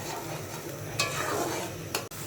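Spices for egg korma, with onion, cashews, peanuts, garlic, cumin and coriander paste, stirred and fried in a pan: a steady soft sizzle with scraping stir strokes and a couple of sharper clinks.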